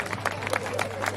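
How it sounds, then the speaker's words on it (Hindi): An audience claps at a devotional tableau performance, a brief patter of applause with crowd murmur mixed in. "जोरदार तालियां।"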